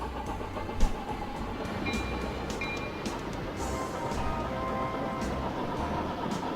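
Iron ore train rolling along track in the video game Chris Sawyer's Locomotion, a steady low rumble with faint rail clatter throughout, one brief click near the start, no talk.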